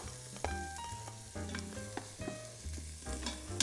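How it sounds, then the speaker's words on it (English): Minced shallots and garlic sauté in butter in an Instant Pot with a soft, continuous sizzle and some stirring scrapes. The sound is close but fairly quiet, with no talking over it. "And we're just gonna saute these for a couple of moments."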